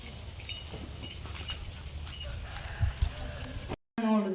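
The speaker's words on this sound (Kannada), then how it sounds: "ಕೋಳಿಗಳೆಲ್ಲ ನೋಡಿ ಹೆಂಗೆ ಓಡೋಗ್ತಿದ್ದಾವೆ." Farm chickens clucking and scurrying about as they are herded into a shed, soft scattered clucks under background noise, with a brief dropout and then a voice near the end.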